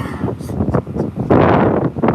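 Strong wind buffeting a microphone on a beach in Brazil, a loud roaring rush that swells and surges unevenly with no clear voice over it.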